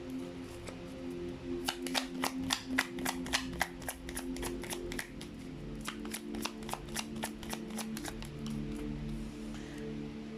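A deck of tarot-style reading cards is shuffled in quick bursts of crisp riffling clicks that come in close, rapid runs, pause, then resume, with no talking.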